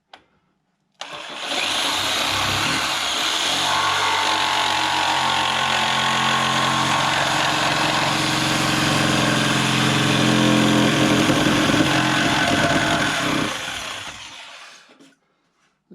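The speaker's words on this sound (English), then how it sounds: "So I'm going to cut that out with a jigsaw" A jigsaw cuts wood while roughing out the head of a large carved Bellamy eagle. It gives one loud, continuous buzzing drone that starts abruptly, holds steady for about thirteen seconds and then winds down, with no speech.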